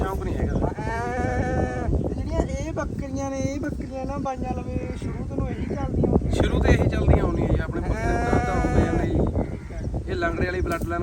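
Large herd of about thirty black goats on a Punjab farm bleating repeatedly and overlapping, some calls loud and close, with people talking throughout.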